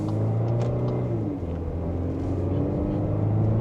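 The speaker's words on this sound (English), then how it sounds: "let's give it one more acceleration for today's video" A Volkswagen Atlas Peak Edition SUV with a turbocharged engine accelerates while merging into traffic, a steady low engine drone and road rumble heard from inside the cabin, continuous and fairly loud.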